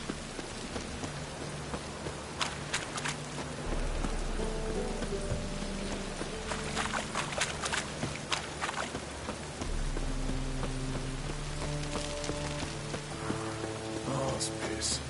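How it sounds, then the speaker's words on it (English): Rain falls steadily in The Witcher video game, a constant patter of drops on surfaces with ambient in-game music tones running throughout, no voices present. "Rain again."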